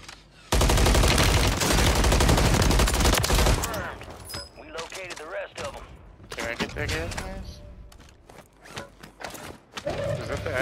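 Loud, dense automatic gunfire bursts in Call of Duty: Warzone (Modern Warfare III) for several seconds, then thinning out beneath players talking over voice chat.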